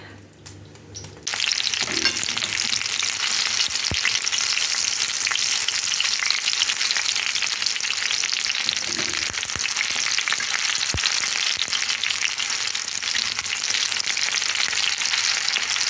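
Buckwheat patties sizzle steadily in a hot frying pan, a loud, constant crackling hiss that continues throughout with only faint clicks and shifts.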